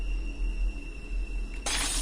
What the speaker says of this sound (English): The glass shattered.